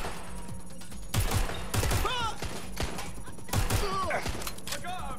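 Gunfire in Watch Dogs Legion: several loud bursts of shots in uneven clusters with thuds between them, under shouted voices and game noise.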